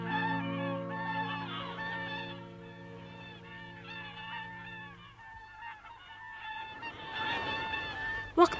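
Wild swans in an animated fairy tale give loud, overlapping honking calls that carry for several seconds alongside a sustained musical tone, then thin out into scattered rustling and a few sharp honks near the end.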